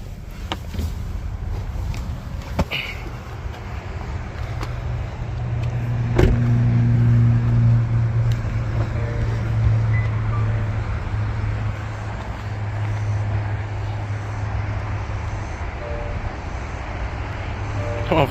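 A Toyota Prius runs with a low, steady engine and road drone that stays close and constant throughout, with no clear changes in pitch.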